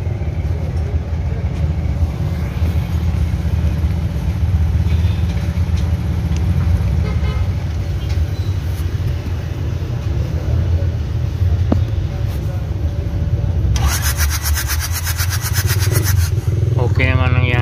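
An Isuzu C240 diesel engine with a busted cylinder head gasket runs at close range with a steady, rough low rumble and occasional clatter. People talk over it.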